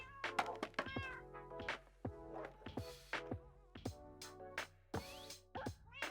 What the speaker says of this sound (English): I think I was getting pushed by my cat.